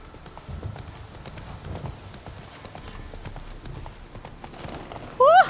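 Roach, Geralt's horse in The Witcher 3, gallops with a steady, fairly close clip-clop of hooves, ending in a brief, louder rising chirp.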